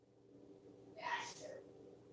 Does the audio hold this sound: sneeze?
yes